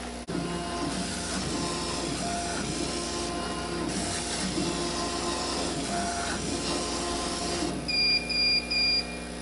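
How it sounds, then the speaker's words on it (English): A laser engraver runs a fast line-marking pass at 100 mm per second and 25% power, giving a steady mechanical hiss and whir with tonal motor hums, then a few short high electronic beeps near the end. "it's gonna mark out some lines so I know exactly where to put my bottle"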